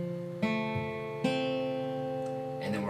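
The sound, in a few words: guitar chord strings picked individually with fingers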